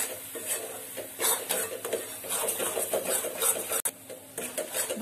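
A spoon stirs egg masala spices in a pan with steady scraping and clinking strokes against the metal, close and fairly loud, over a faint sizzle.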